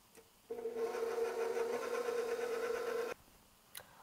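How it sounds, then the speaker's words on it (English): Steady electric whir of a hand mixer blending dry chocolate cupcake ingredients, starting abruptly, running evenly for under three seconds up close, then cutting off. "take your standard mixer or just your hand electric mixer and just mix all the dry ingredients together"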